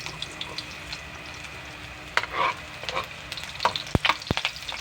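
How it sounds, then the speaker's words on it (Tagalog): Garlic sautés in hot oil, crackling and popping in sharp bursts over a low steady sizzle, with a few loud spits near the end as a spoon stirs the pan. "Start na tayo gisa. Unahin natin yung bawang."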